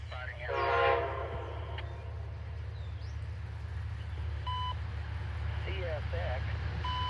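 Amtrak Heritage locomotive 100 leads train 63 through Kirkville, its horn sounding briefly and fairly distant over a low, continuous rail rumble, with faint voices nearby.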